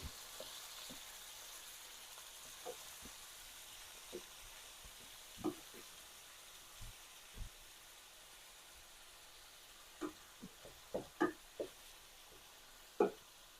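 Ground meat for shepherd's pie frying with olive oil and garlic in a pan, a soft steady sizzle broken by intermittent sharp scrapes and taps of a utensil breaking it up, louder in a cluster near the end.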